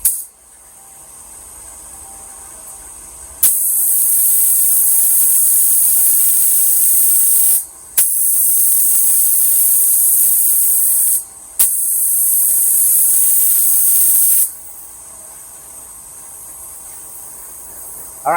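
A spray gun lays single-stage paint onto a 1967 Pontiac Firebird fender in three loud, sharp hissing passes of a few seconds each, separated by brief pauses, with faint quiet gaps before and after.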